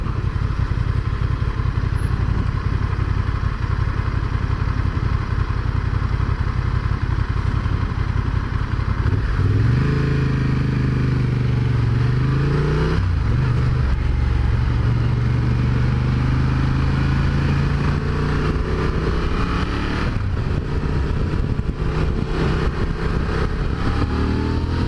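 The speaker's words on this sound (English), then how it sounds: "Smooth as silk, this engine." A Honda Transalp motorcycle engine hums steadily throughout, close and loud with wind rush, its pitch rising and falling as the rider changes speed.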